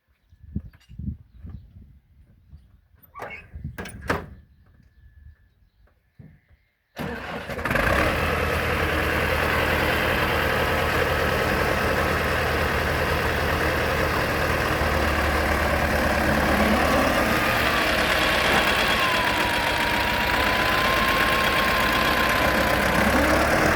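A homemade potato cultivator fitted with hedgehog weeders sits quiet outdoors with a few faint knocks, then its engine starts abruptly and runs loud and steady with a rough, unbroken drone for the rest of the clip.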